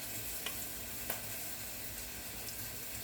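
Dried chillies and whole peppercorns fry in hot oil with a faint, even sizzle, broken by a couple of soft clicks.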